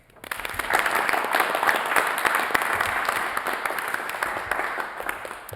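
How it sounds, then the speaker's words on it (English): A school board meeting audience breaks into sustained applause that swells quickly after a brief quiet start, then holds steady and fades slightly near the end. "but if we could give Owen a round of applause"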